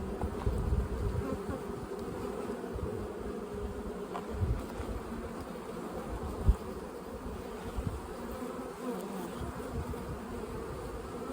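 Honey bees in a late-season split buzz continuously during a hive inspection, a dense, steady droning swarm close by with a few faint knocks from handling frames.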